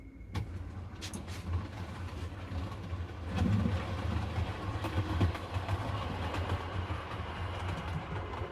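Model railway trains running on a layout track, a steady low rumble with faint clicking of wheels over rail joints, continuous and fairly close throughout, with no talking.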